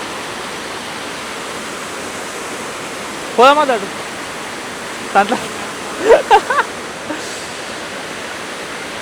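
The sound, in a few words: waterfall at Ladies Bath Falls, Mount Hotham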